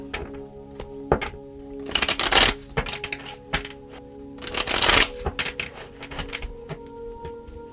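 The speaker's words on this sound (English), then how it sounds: "3 more shuffles and let's begin." A tarot deck is shuffled by hand, giving soft riffling and rustling bursts with card taps and thunks in between, two fuller riffles standing out.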